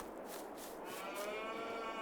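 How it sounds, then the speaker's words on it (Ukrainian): Cows mooing in the Farming Simulator 22 video game, a sustained livestock lowing heard up close and steady, with no talk over it. "Корови."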